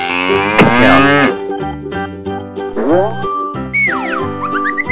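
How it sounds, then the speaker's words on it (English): A farm cow gives a couple of drawn-out, wavering moos over a bright children's music backing, ending with a rising tinkly accent. "Cow."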